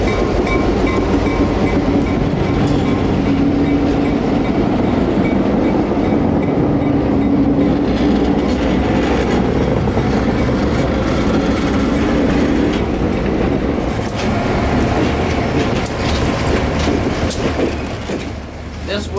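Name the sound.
Orlando Northwestern Railroad train passing outbound toward Mount Dora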